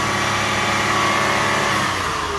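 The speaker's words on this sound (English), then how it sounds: "So we're giving it a couple of revs." A car engine is revved a couple of times during a fuel-injector demonstration, a steady loud mid-pitched drone that swells and falls without speech.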